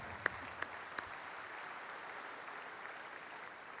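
A keynote audience claps in a soft, distant patter of applause, with a few sharp nearby claps near the start, continuing evenly at low level.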